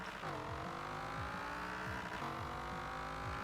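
A 1968 Pontiac Firebird drag car in Forza Horizon 4 revs hard through rapid upshifts, its engine note repeatedly climbing and dropping with each gear change, loud and continuous for the whole stretch.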